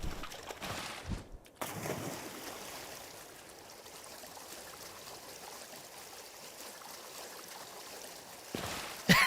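A video game waterfall rushes in a steady broadband wash of flowing water, close and continuous, with a brief dropout near the start and no talking.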